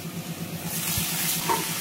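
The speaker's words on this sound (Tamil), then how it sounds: "தக்காளி சேர்த்துட்டு 2 வதக்கு வதக்கிட்டு" Chopped tomato sautés with ginger and garlic in a pan, a close, steady sizzle that swells as the tomato hits the hot oil, with faint stirring and no talk.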